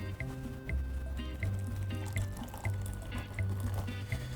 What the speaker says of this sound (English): We're now going to add approximately 100 milliliters of boiling water from the kettle into the 250 milliliter beaker with the cream of tartar.